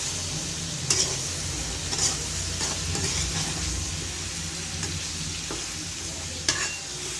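Steady sizzle of potato and pointed gourd frying in a pan, with occasional light clicks of a utensil stirring; continuous and close, no voices.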